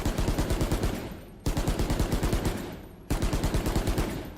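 A budget rifle in the video game Valorant fires in three rapid automatic bursts, each a steady rattle of evenly spaced loud shots ending in a short pause, with no talking over it.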